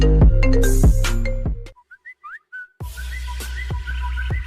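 Mobile phone ringtone: a loud melodic synthesized tune with percussive beats, cutting to a quiet stretch of short whistled-like tones before the full melody resumes, alone with no talk.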